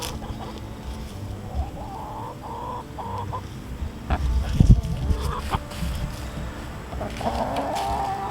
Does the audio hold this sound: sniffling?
no